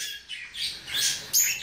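A harlequin cinnamon white-face parakeet chirps in short, bright bursts at close range, several quick calls strung together with no voices.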